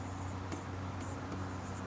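Pen or chalk writing out a definition of a quadratic equation during a Hindi-language Class 10 maths lesson, a steady soft scratching stroke texture with a few brief taps, alone with no talk.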